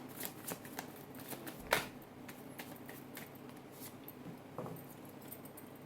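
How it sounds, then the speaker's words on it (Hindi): Tarot cards are shuffled by hand at close range, a soft continuous riffling and flicking with a few sharper slaps, quiet and alone without talk. "this is my last shuffle"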